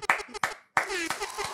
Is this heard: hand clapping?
yes